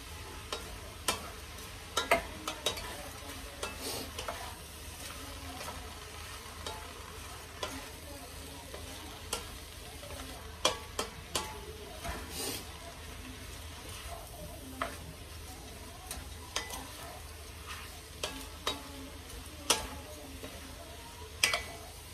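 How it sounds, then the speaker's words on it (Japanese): Meat and onions stir-frying in a pan give off a steady, close sizzle, broken by frequent sharp clicks and scrapes of stirring, with no one talking. "玉ねぎと一緒に炒めることによって私は肉が柔らかくなるんじゃないか"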